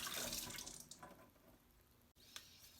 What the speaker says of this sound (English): so we're going to wash the apples first